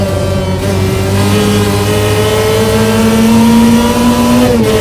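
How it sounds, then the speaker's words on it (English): A loud engine in a Toyota MR2 swapped to a 1.8T revs hard at high speed, its pitch climbing steadily and holding a strained, sustained roar with no voices. "This car is noisy."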